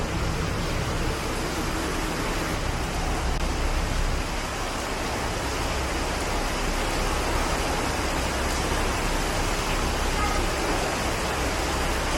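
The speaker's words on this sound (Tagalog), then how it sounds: "Tapos ang lakas ng ulan." Heavy rain pours down in Bangkok, Thailand, a dense, constant roar of falling water that stays loud and unbroken throughout, with no voices breaking through.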